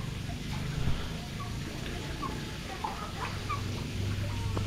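Low clucking of chickens mixed with chirps in an outdoor farmyard, faint and steady against background noise.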